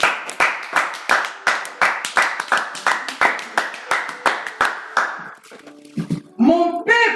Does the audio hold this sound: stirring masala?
no